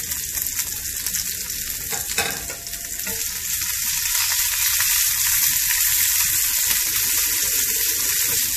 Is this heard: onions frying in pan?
yes